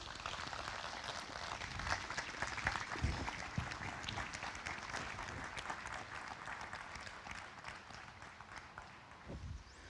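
A crowd at an outdoor Memorial Day service in Hudsonville claps for veterans, a soft and distant patter of many hands that holds steady before gradually thinning out.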